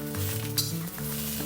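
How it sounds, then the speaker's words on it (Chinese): Mushrooms stir-frying in a hot oiled pan over medium heat, a steady close sizzle with a brief scrape or clink of utensil against the pan partway through. "热锅加油，中火来炒蘑菇"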